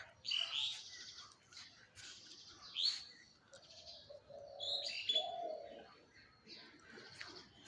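Birds chirp in short bright bursts while a dove-like coo hums lower in the middle, moderately near with quiet surroundings.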